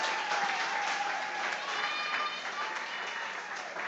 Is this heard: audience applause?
yes